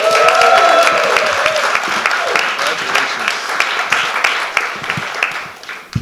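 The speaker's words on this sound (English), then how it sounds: "Everyone give a round of applause" Audience applause at a public forum in Los Angeles for a school board member, lively clapping with some cheering voices, strongest at first and tapering off toward the end.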